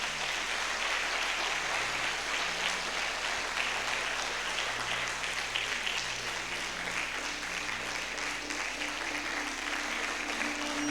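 A church congregation applauds in praise, a steady, sustained wash of many hands clapping for about eleven seconds, with a low electrical hum beneath and faint voices mixed in.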